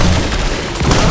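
Gunfire in the video game Fortnite: a single dense, loud blast that fills the whole moment with a heavy booming burst, with no voices over it.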